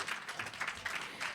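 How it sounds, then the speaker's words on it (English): Faint applause from a crowd, a soft steady patter of clapping heard from a distance. "both a round of applause for demonstrating what we know is"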